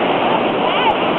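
Coal Creek rushing after flooding near a waterfall, a loud dense steady roar of fast water filling the short stretch.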